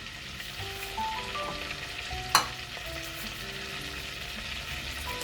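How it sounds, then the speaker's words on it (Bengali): Five-spice, dried red chilli and bay leaf sizzle steadily in hot oil in a wok, with one sharp metallic clank of a stirring utensil partway through. "এবার কড়াইটাতে ফোড়ন দিয়ে দেবো। প্রথমে দিলাম 5 ফোড়ন, তারপর শুকনো লঙ্কা আর দেবো তেজপাতা।"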